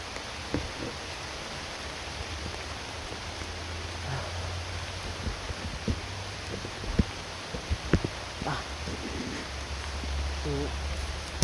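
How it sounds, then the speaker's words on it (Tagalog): A downpour hisses hard and continuously close by, with occasional thumps, drips and a faint low hum beneath the steady roar of the rain. "sobrang lakas talaga ng ulan mga idol"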